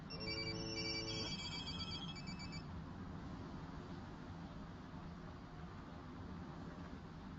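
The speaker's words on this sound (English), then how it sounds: "In a few seconds, each of you will receive a picture message to your cell phones." Several cell phones ring and chime at once with incoming picture messages, overlapping electronic ringtones loud for the first few seconds before giving way to a steady noisy hum.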